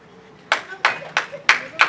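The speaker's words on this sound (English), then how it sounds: "Yes, let me clap." One person clapping at a 60th birthday celebration, five sharp, separate claps at a slow, even pace, close and loud, with low sustained background tones between them.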